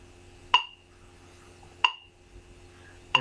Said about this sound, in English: we're going to do that with a metronome.